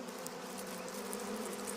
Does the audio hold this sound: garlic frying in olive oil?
no